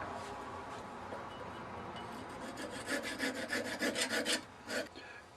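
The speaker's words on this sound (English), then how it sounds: "I'm going to go ahead and cut it with a razor saw." Razor saw cutting a wooden train-whistle cap on a lathe, a faint rasping that turns into a quick series of rhythmic back-and-forth strokes over a low background hum.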